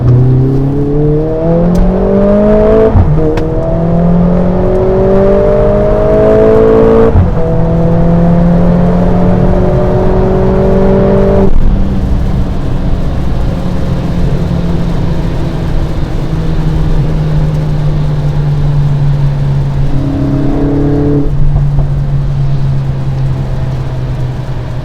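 The 2-liter four-cylinder engine of a 2021 Mercedes-AMG GLA 45 S revs hard through repeated gear changes, its pitch climbing and dropping, then settles into a steady loud drone, close and continuous without speech.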